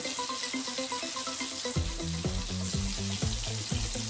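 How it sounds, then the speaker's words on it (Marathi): Garlic sizzles in hot oil in a pan for fish curry, a steady close crackling hiss with no voices, though the clip also carries clear ringing tones. "लसूण जराशी चांगली तडतडली"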